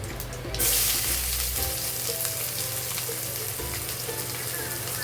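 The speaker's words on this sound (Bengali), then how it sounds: "পেঁয়াজগুলো দিয়ে ভালো করে ভেজে নিতে হবে" Chopped onions fry noisily in hot oil after cumin, an even crackling sizzle after a loud clatter as they go in, with faint stirring.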